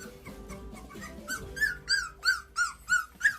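Country puppies whining and yelping, a run of rising high-pitched whimpers that grows into a quick regular series of about eight cries, close by and alone.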